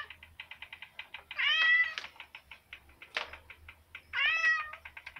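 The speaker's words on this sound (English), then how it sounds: "He's meowing." A male cat, Simba, meows repeatedly in short close bursts, with two longer drawn-out three-syllable meows standing out among quicker calls and a faint low hum underneath.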